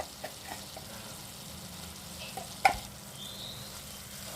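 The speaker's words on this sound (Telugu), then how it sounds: "ఉల్లిపాయలు మగ్గిపోయిన తర్వాత అల్లం వెల్లుల్లి పేస్ట్ 2 స్పూన్లు యాడ్ చేసుకోవాలి" Onions with ginger garlic paste fry quietly in a pan, a low steady sizzle with a few light stirring clicks and one sharper clink of a utensil partway through.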